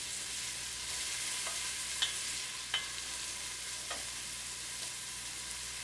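Vegetables for a vegan pot pie sweat in a pan, a constant broad hiss of gentle sizzling with a few faint clicks of a utensil.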